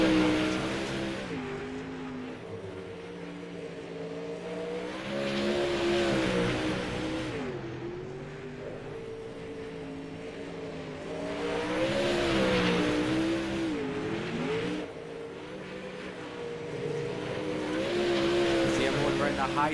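Race car engines on track in a sim racing game, steady high-pitched whine with rising and falling revs across several shifts, loud and continuous while a commentator talks over it.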